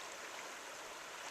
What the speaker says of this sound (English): This is a beautiful little Powder River.